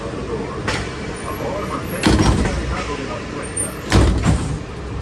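Doors of a blue Bombardier monorail on the Epcot beam sliding and slamming shut in a few sharp thuds and rumbles over the steady hum of the train car, with a person talking at times.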